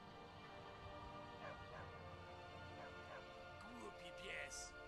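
A dog in Skyrim Special Edition barks in short yips and whimpers several times over a steady game background hum, moderately close.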